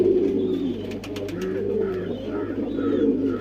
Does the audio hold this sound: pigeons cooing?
yes